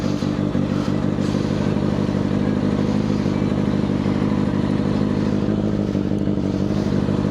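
A Kawasaki ZX6R 600cc motorcycle idles close by. Its engine gives a steady, dense rumble with a fast, even pulse that stays level throughout, and no one speaks.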